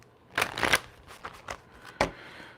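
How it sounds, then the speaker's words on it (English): Tarot cards shuffled briefly by hand, a few quick riffling bursts followed by a single sharp snap near the end, close and clear with no talking. "So Taurus, let's get a quick shuffle,"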